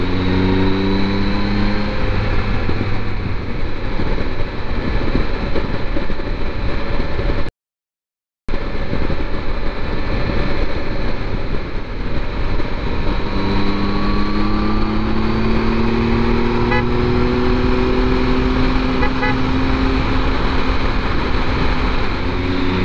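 A Kawasaki motorcycle ridden on a tour of the Pyrenees and Picos, its engine droning loud and steady with rising revs and heavy wind rush, cut by a short gap of silence partway through.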